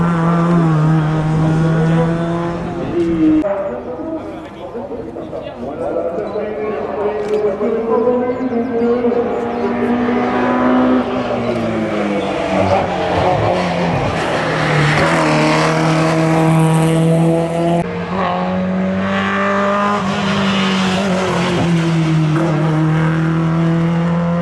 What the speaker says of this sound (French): 813 pour le pilote de la 205 GTI. Celui qui passe devant nous maintenant.